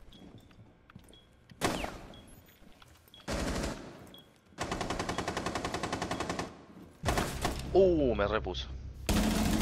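Video game gunfire comes in several loud bursts of rapid automatic shots separated by brief pauses, with one longer sustained burst; speech is heard faintly between volleys.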